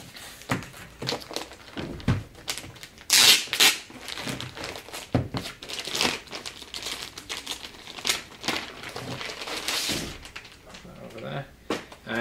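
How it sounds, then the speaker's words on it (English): Plastic packaging is pulled and crinkled off a Toshiba C850-1HE laptop, with close rustling, crackling and occasional thumps of the unit being handled, continuing over about twelve seconds while someone talks. "Take the packaging off."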